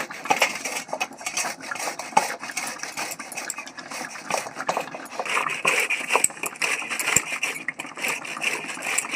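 A tomato is rubbed against a grater in a home kitchen, giving a continuous scraping, rasping texture in quick repeated strokes, close and fairly steady with light clinks mixed in and no talking.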